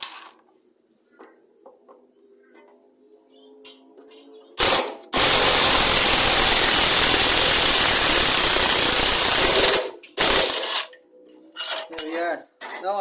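A ratchet wrench loosens the 14 mm centre bolt on a lawn mower, giving a loud, close, sustained burst of rapid clicking for about five seconds, framed by quieter handling clicks and brief scrapes.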